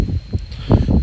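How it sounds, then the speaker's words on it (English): Wind buffets a microphone outdoors, giving rough, low rumbling gusts that swell and fade over about a second. The sound is loud and close, with no speech. "it's very windy here"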